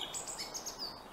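Birds chirp and tweet in an aviary, a scatter of short high calls at moderate distance over a steady room hum, with no talking.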